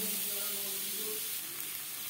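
Boiled potatoes fry lightly in a pan with a soft, continuous hiss and sizzle, brief and fairly quiet beneath faint background music.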